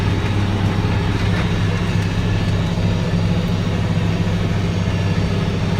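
A tractor engine runs steadily with its hydraulics working, giving a constant, loud, low mechanical drone with no breaks.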